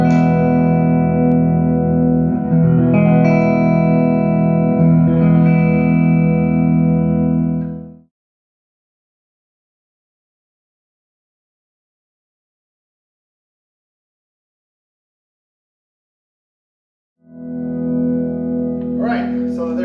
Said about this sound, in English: let's go ahead and record some simple tones through the Vibrolux